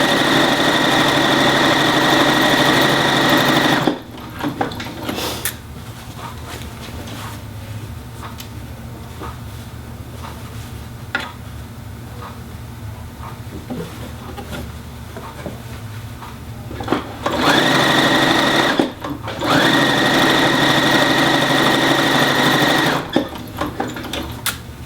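A sewing machine stitches around a gentle curve on an argyle piece, a steady buzzing whir for several seconds, then a long quiet stretch of soft fabric handling before two more short bursts of stitching.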